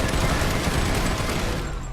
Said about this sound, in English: See, they've got pretty accurate fire and a rapid fire rate.